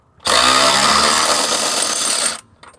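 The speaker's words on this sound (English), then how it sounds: "there's still a bit too much on there for the motor and this ratchet to do its job" Electric ratchet driven hard against a stubborn bolt on the suspension of a Mazda FB RX-7, a loud continuous high-pitched whir and grind lasting about two seconds, then cutting off.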